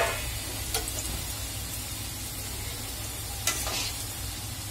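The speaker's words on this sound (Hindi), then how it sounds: "ऑयल में डालती हूँ, डीप फ्राई करती हूँ" Potato roll samosas deep frying in hot oil, a steady broadband sizzle and bubbling held throughout at an even level, with two brief sharper crackles standing out near the start and toward the end.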